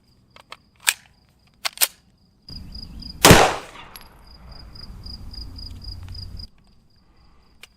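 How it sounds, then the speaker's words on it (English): A 9mm pistol fires a 124 grain Speer Gold Dot round into clear ballistics gelatin outdoors: one sharp loud report, preceded by a few small clicks and handling noises, followed by a fading hum. "Back at it, 124 grain, Speer Gold Dot in the clear ballistics gelatin."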